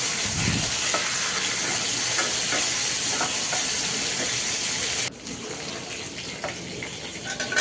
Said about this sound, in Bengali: এদিকে তরকারি রান্নার জন্য যে মাংসগুলো ভেজে নিচ্ছি নেড়ে চেড়ে।